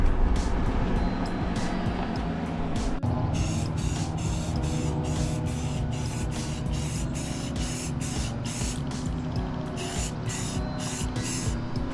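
Steady hissing spray of paint from an aerosol can coating the case of an old air conditioner unit, with short pulsed bursts later on over a continuous low hum.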